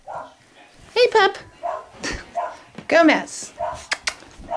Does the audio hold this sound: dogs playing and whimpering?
yes